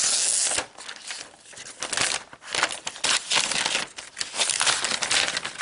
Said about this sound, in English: let's go ahead and peel the plastic off